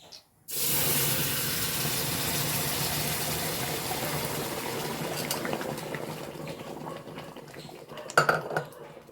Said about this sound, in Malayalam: ഇനി കടലപ്പരിപ്പ് ഒഴിച്ചു കൊടുക്കുകയാണേ